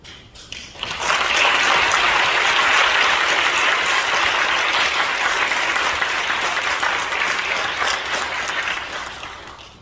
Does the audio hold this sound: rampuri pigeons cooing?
no